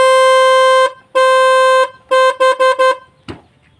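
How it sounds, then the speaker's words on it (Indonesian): A snail-type electric horn mounted by a motorcycle number plate sounds loud and clear, first in two long blasts, then in four short toots, with a faint knock at the end. "itu adalah klakson keong"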